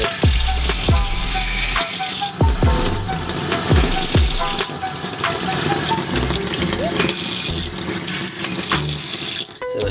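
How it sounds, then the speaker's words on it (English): Water runs from a faucet through a venturi injector, making a loud, steady rushing and splashing. Rattles and clinks come in between, and a voice speaks over it at times. "once it's on, you're going to place your finger on this nozzle when the water's running"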